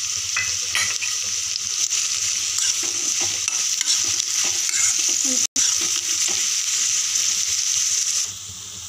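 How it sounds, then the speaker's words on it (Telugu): Bitter gourd and green chillies frying in hot oil, a loud continuous sizzle with stirring scrapes, close by and uninterrupted for most of the clip before easing slightly at the end. "నూనె కాగినాక ముందు కాకరకాయలు వేసుకోవాలి. పచ్చిమిరకాయలు కూడా వేసుకోవాలి"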